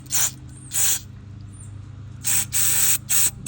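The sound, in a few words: carb cleaner spray blowing out carburetor ports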